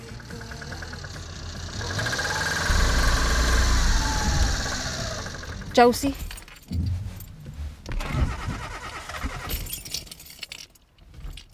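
A car's starter cranks and whirs as the engine labours and fails to catch, with rough chugging and clunks followed by sputtering, irregular bursts; someone speaks briefly.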